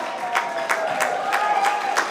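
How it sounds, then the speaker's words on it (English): Clapping from a banquet crowd at a Korean American heritage gala in Los Angeles, individual claps standing out in a rhythmic, fairly even patter over a murmuring room. "Take a big round of applause."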